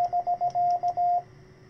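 A CW Morse code tone at a radio receiver: a single steady pitched beep keyed in short dits and longer dahs, clear and close over faint background hiss, stopping after about a second.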